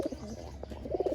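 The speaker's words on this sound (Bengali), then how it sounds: "কালদম পায়রা" A Kaldam pigeon gives soft, low coos in a couple of brief bursts, close and fairly quiet, with faint background noise and no voices.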